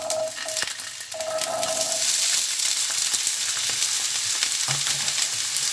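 Chickpeas hitting very hot oil in a frying pan for Cuban fried garbanzos, a loud, dense, continuous sizzle that swells and crackles steadily up close with no talking.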